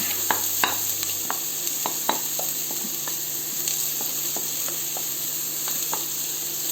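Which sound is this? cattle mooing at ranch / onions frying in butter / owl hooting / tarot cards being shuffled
onions frying in butter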